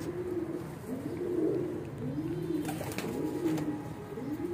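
Pigeons coo in repeated low rolling phrases, several calls in a row at a steady moderate level over a faint background hiss.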